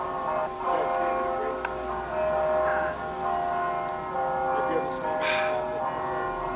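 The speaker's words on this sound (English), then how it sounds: "church bells" Church bells ring in Fall River, layered over a dense, steady tonal din with faint voices and street sounds nearby.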